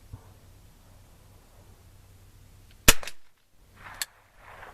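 A Rossi Match Pair gun fires one sharp, loud shot that rings off briefly, followed by a fainter second report about a second later, over a quiet outdoor background.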